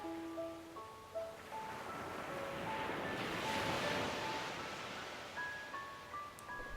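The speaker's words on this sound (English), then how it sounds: "the power of the waves" Ocean waves break in a steady, rolling wash of surf that swells to a broad crest midway and then eases back, heard under soft sustained musical tones.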